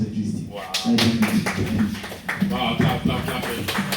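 Scattered hand claps at a student SDG project showcase, a short run of taps and claps mixed under steady talking and nearby voices.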